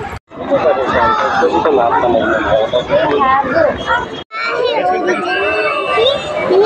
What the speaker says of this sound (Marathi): आम्ही संडेला आलोय म्हणून बघा झू बघायसाठी किती गर्दी आहे.